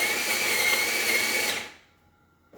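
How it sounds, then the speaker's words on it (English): A Jura Ena 4 coffee machine grinds beans in a loud, steady burst of about a second and a half, then cuts off abruptly into quiet near the end. "So now I grinded the coffee."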